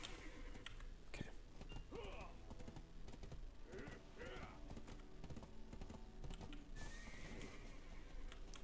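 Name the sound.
horse neighing and hooves in Black Desert Online video game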